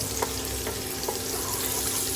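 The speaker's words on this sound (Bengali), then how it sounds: "এই যে মাছগুলো ভাজা হচ্ছে" Chital fish pieces fry lightly in plenty of oil in a pan, giving a steady, moderately quiet sizzle with a few faint crackles and stirring taps.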